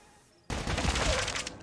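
Dense automatic gunfire from COD Mobile erupts abruptly after a quiet half-second and keeps rattling loud and close in rapid bursts to the end.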